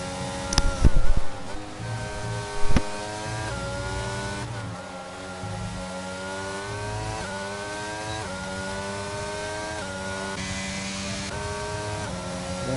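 Formula 1 race car engines in the F1 22 video game at the Austrian GP, a steady high whine of several cars with rising and falling pitch, and a couple of loud thumps near the start.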